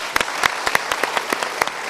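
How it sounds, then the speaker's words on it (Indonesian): Studio audience applause at a televised motivational talk show, a steady patter of many hands clapping with sharp individual claps standing out, moderately loud and sustained without talk. "kita berikan tepuk tangan"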